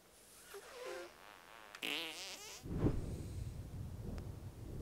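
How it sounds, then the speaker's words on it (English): A fart in a South Park video game, a long wavering, buzzing squeal that is loud and close, followed by a rougher, noisier rumble. "What is the sound of one anus farting?"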